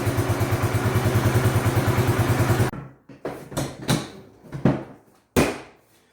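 A Bombardier Quest 650 ATV engine idles steadily and close by with a fast, even pulsing for nearly three seconds, then cuts off and is followed by scattered clunks and rattles.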